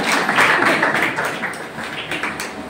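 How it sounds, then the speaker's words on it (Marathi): An audience at a lecture in Ratnagiri claps together, a broad, steady patter of many hands that stays moderately loud for nearly three seconds before easing slightly. "आवडलं तर टाळ्या वाजवायला"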